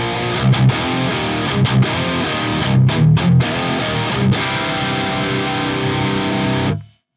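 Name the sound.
electric guitar through FAS AX8 5153 amp model, presence turned down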